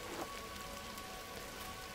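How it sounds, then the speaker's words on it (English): Rain falling in a lush forest in the video game Gris, a soft, dense patter of drops on surfaces that stays even and close throughout, with no voices. "That's finally raining."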